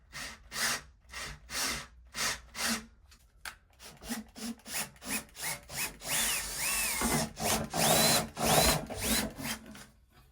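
A power drill bores into wood in repeated short bursts, then runs longer with grinding and squealing as the bit bites, loud and close.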